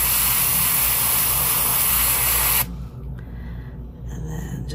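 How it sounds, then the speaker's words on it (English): An airbrush sprays paint onto a fishing lure through a stencil for a dying threadfin pattern, producing a loud, steady close hiss for about two and a half seconds that cuts off abruptly to a quiet room. "make sure I'm spraying properly"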